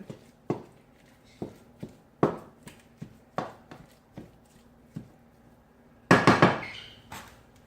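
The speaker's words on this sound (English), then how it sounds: "we're just going to break the turkey up" Ground turkey cooking in a sprayed pan, broken up with a utensil that taps and scrapes against the pan in a series of separate sharp knocks, followed by a quick cluster of clatters near the end.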